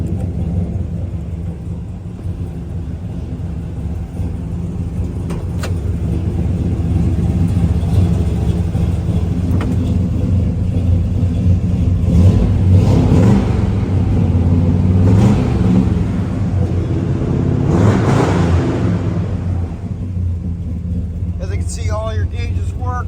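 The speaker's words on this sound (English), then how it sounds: "Sounds like a muscle car is supposed to sound, that's for sure." A 1971 Chevrolet Chevelle muscle car engine rumbles deep and loud, revving up in a few swelling surges before settling back to a steady idle.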